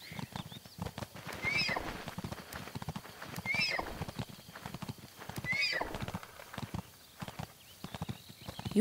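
In a Zelda video game, a ridden deer's hooves clop in a steady trotting rhythm, with recurring whinny-like calls at regular intervals.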